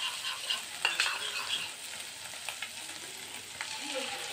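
Beaten curd stirred into a potato curry over a low flame, giving a faint, soft sizzle with quiet scraping stir strokes and a few light clinks of the spoon against the pan.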